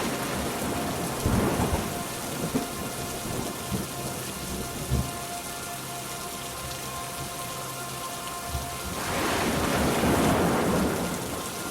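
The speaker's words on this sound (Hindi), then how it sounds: "बारिश लगातार तेज होती जाती है।" Heavy rain pours steadily throughout, with two deep rolls of thunder, one near the start and a longer, louder rumble toward the end.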